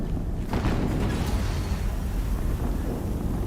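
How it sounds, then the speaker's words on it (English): An explosion in Horizon Zero Dawn gives a deep, rolling boom that swells and rumbles on as a heavy low roar, loud and sustained with no talking. "Another explosion."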